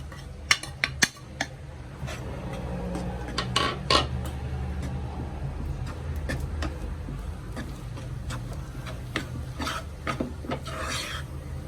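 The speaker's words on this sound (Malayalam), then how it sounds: "എണ്ണ ഒഴിച്ചു കൊടുക്കാം മാവിട്ടിളക്കി കൊടുക്കാം" A utensil stirs flour into a hot, oiled pan for poricha pathiri, giving faint scraping and rasping strokes with scattered light metallic clinks against the pan, no voices.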